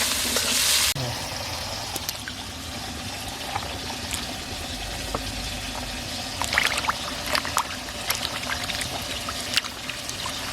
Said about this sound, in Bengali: লবণ দিয়ে আলুটা ভেজে নেব